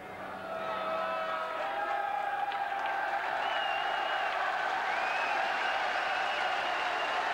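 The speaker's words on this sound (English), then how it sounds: "A near-capacity crowd here at Playmore, a great atmosphere building" A near-capacity football crowd at Playmore applauds and cheers steadily as the two teams come out, a dense, sustained roar of clapping and whoops filling the whole stretch with no letup.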